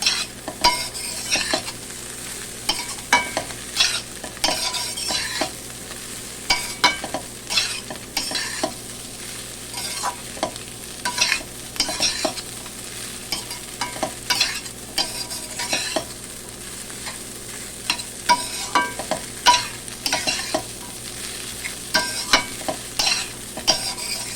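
Chira pulao of flattened rice with chopped coriander is tossed in a frying pan, and a spatula scrapes and knocks in an irregular, busy rhythm over a soft, steady sizzle, close up with no talking.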